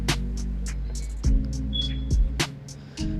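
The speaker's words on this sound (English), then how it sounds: "one more time with my Instinct clippers, just detailing the taper" Instinct hair clippers detailing a taper during a barber's high bald taper cut: a steady electric buzzing hum, close up, broken by a few sharp clicks and brushing contacts.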